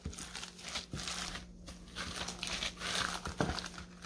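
A plastic kimchi-making bag spread over a cutting board crinkles and rustles repeatedly as chewy rice cake dough is worked on it, with soft irregular crackles, fairly quiet, no talking.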